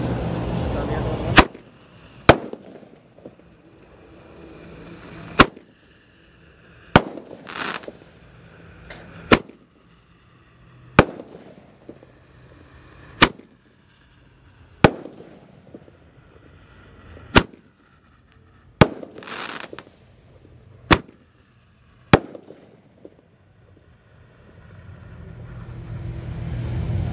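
A large ten-shot Roman candle firework fires a loud, sharp burst about every two seconds, each with a brief whistling rise. Quiet gaps and outdoor rumble fall between the shots.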